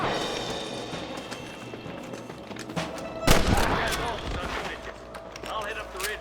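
Gunfire in Red Dead Redemption 2 during a standoff in the town of Armadillo, heard as a loud sharp burst around the midpoint with scattered shots and game ambience before and after, under a murmur of background voices.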